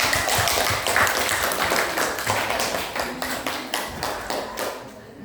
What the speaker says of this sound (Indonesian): tepuk tangan untuk Farel